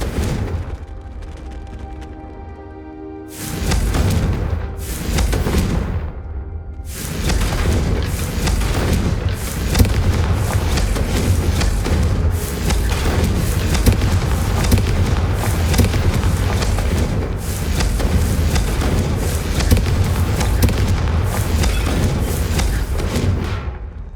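Confringo fire spells go off in the Hogwarts Legacy video game as loud, booming explosions and heavy thuds, first in a few separate bursts and then in a dense, continuous barrage.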